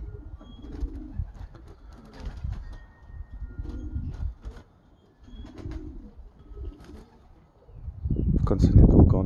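Pigeons coo in repeated soft, low bursts during a release of young pigeons outdoors in the USA, with someone speaking intermittently and a louder rumbling burst near the end.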